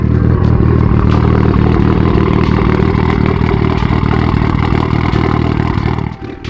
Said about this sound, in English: That's such a crispy cold start.